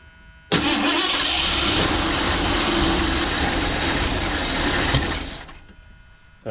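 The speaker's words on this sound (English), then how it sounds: "Okay, so this should fire up, but it's not going to idle very well at all." A Ford 302 V8 with a newly installed distributor fires up abruptly and runs roughly with uneven idle for several seconds before shutting off, loud and close, with no talk over it.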